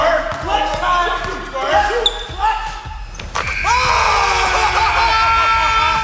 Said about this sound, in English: Basketball games.